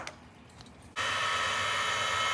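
Small 25mm motor cooling fan on a Mojave Grom RC car spins up abruptly after a quieter rustling start, then holds a steady, close whirring hiss.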